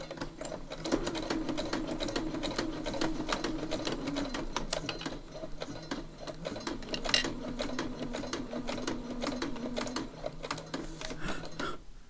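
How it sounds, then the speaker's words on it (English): A sewing machine stitching along the top of paper ephemera for a junk journal, a steady close rapid mechanical whirring with a brief pause near the middle before the stitching resumes. "Drop my needle, go back a couple of times, then sew along the top."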